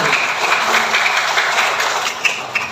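Audience applause at a Ramadan school quiz competition, a steady patter of many hands clapping in a room, moderately loud, with a couple of sharper claps near the end.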